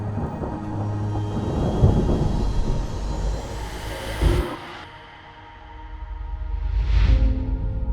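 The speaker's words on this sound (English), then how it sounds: "The storm is coming." A thunderstorm with heavy rain and low, rolling thunder, peaking in several deep rumbles and one sharp crack midway, then easing before another swelling roll near the end.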